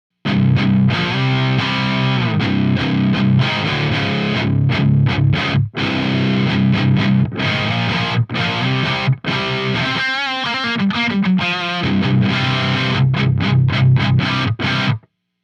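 Heavily distorted electric guitar played through a Mesa Dual Rectifier amp on its orange channel into a Mesa cabinet, thick chugging riffs with short stops and a brief chorus-like passage, loud and alone.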